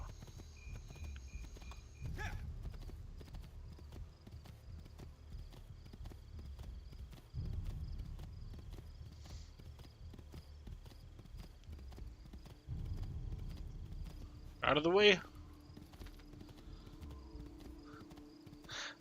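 Rhythmic hoofbeats of a horse in a video game come in bursts, with a brief whinny near the end and a short spoken line over the galloping.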